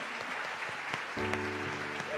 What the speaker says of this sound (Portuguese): A gente só vai parar de aplaudir quando o último passar pela porta.